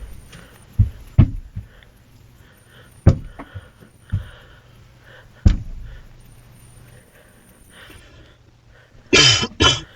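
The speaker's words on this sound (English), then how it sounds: "Oops, sorry, cough jump scare." Several sharp, isolated coughs and throat-clearing bursts spread out over quiet, close to the listener. A louder cluster of hard coughs comes near the end.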